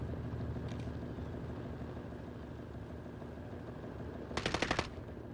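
Gunfire in Call of Duty Warzone, a faint steady background rumble broken near the end by a short, loud burst of rapid automatic shots.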